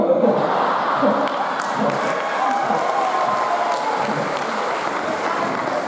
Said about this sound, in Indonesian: tepuk tangan lah untuk dikeber tadi